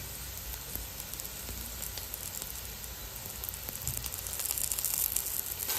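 Fish masala for a harbour-caught fish dish sizzles in a pan with curry leaves: a steady, close frying hiss that swells slightly louder toward the end, with no voices.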